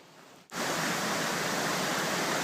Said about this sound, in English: There's a little waterfall down here.